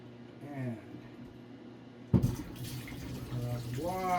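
Running tap water washing E-6 colour film during processing; a steady, moderately quiet flow with a sudden splash-like surge midway that then settles back into continuous running water.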